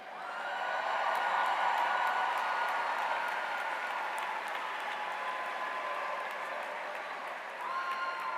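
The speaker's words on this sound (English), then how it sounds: "please make certain that your applause does not overshadow the introduction of other graduates" Sustained, dense applause from a graduation ceremony audience at Lake Mary High School, rising quickly and holding steady at full strength for several seconds before easing slightly, then swelling again near the end.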